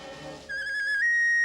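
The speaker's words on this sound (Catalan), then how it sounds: "si tinguéssim el xiulet màgic, ens podríem salvar" A magic whistle is blown in a Smurfs cartoon, giving a single clear, sustained tone that rises slightly in pitch and carries on alone for about a second.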